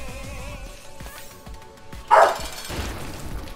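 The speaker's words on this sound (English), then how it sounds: "Oh, now he's gonna come barking here." A dog barks once, close and loud, after a few softer yips and whimpers, over a quiet backdrop with light background sounds.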